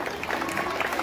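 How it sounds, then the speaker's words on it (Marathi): Brief burst of clapping from a crowd at an annual Satyanarayan puja function, dense and steady for about a second, with faint voices mixed in. "टाळ्यांचा जोरदार कडकडाट"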